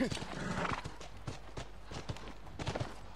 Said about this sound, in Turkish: At böyle bir hırlıyor mırlıyor.